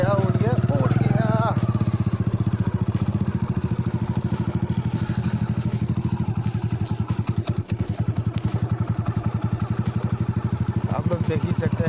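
An old Hero Super Splendor motorcycle rides along a rough river bank of the Jaldhaka, its engine thumping steadily and loudly up close for the whole stretch while voices talk over it.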